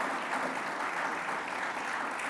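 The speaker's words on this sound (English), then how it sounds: "Let's give them a round of applause as well." Applause at a government press event: a short, steady burst of many hands clapping together, even in loudness and fairly quiet, with no clear voices over it.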